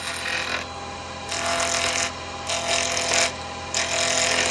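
Wood lathe spinning a yew lidded pot at 2,500 RPM, a steady close whir with gentle tool contact coming in and out in several rubbing, scraping bursts.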